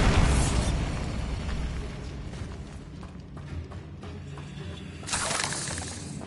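A Bombarda spell explosion in the video game Hogwarts Legacy, a loud shattering blast at the start that decays into crumbling debris rumble, followed by a second bright burst near the end.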